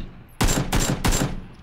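Gunshots in the video game PUBG: three loud, close, evenly spaced shots in quick succession, each with a sharp crack and short decay, standing alone without talk.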